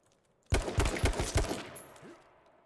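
Rapid burst of about five loud, close gunshots in the H1Z1 King of the Kill battle royale game, fired in quick rhythm and followed by a fading echo and a faint thud.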